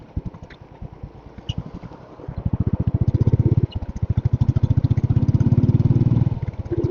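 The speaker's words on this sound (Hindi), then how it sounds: "भाई बाइक भी मिसफायर कर रही है ले।" A motorcycle engine misfires on a long-distance road ride, chugging in a loose, uneven rhythm that grows louder as it revs, then stumbles briefly before picking up again.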